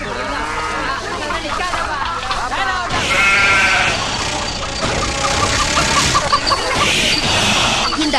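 A goat bleats loudly in a domestic drama scene, the wavering cries rising over a busy mix of voices and background noise that runs throughout.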